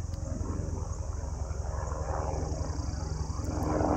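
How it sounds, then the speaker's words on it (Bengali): A helicopter heading toward Kedarnath in Uttarakhand's hills makes a low, steady rotor drone throughout, growing slightly louder toward the end as it passes, with faint background noise and no talk. "হেলিকপ্টার যাচ্ছে কেদারের পথে"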